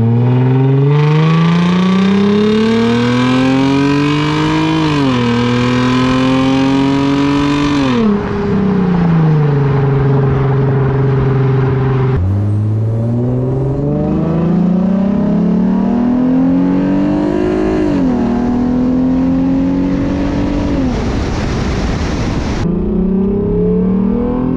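A 2007 Lexus IS 350 engine revs hard and close, climbing in pitch through several long sweeps before dropping back, loud and continuous throughout.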